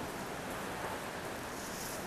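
Steady rain falling outdoors, a dense even hiss of drops spread across the whole stretch with no voices over it.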